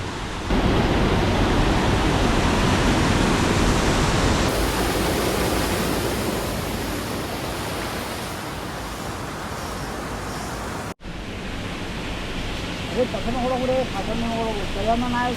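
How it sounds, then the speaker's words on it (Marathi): Strong rushing water roars steadily and loudly throughout, with a brief cut-out near the end and a faint voice rising over it at the close. "पाण्याचा फ्लो बघा केवढा मोठा आहे"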